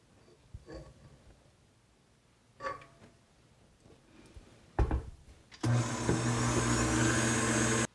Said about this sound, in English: So I've got my mixer here fitted with my whisk attachment